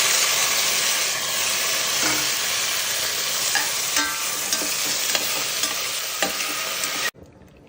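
Tomatoes stir-fry in a hot pan for tomato bath. A loud, dense, continuous sizzle and hiss carries scattered stirring clinks, then cuts off abruptly near the end.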